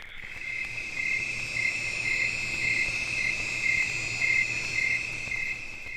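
Chorus of crickets at a bayou in the evening, a dense, steady high trilling with pulsing rhythm, continuous and fairly close, with no voices.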